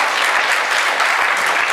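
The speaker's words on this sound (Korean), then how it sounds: "우리 하나님께 뜨겁게 감사 영광의 박수 올리겠습니다." A church congregation at an early-morning Sunday service claps loudly and continuously, a dense close round of applause throughout.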